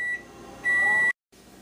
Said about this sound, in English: hear the beep in the back. Our oven is ready.